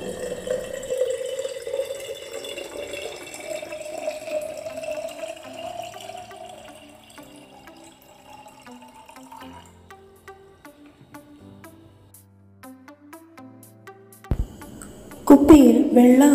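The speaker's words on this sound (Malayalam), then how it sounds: "ഈ ഹോർലിക്സ് കുപ്പിയിലേക്ക് കുറച്ച് വെള്ളം ഒഴിച്ചു കൊടുക്കുക." Water pours steadily into a Horlicks bottle, its hollow tone rising as the bottle fills, then tapering into a few soft drips and ending with brief clattering handling sounds.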